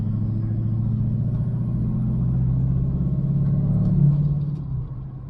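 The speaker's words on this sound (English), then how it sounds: "I'm not sure how well y'all can hear it, but the turbo is actually a lot louder inside the cab." An LML Duramax truck fitted with a 65mm Wold Fab turbo, heard from inside the cab, gives a steady low diesel drone with a slowly rising turbo tone that swells near the end and then eases off.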